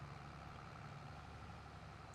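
An old tractor works hard pulling a plough in Farming Simulator 22, its engine a steady, loud, low drone throughout with no talk.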